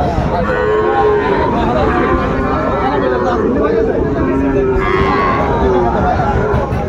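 A Sahiwal bull calf moos repeatedly in long, drawn-out calls at a busy cattle market in Ambari, with steady crowd chatter and voices underneath throughout.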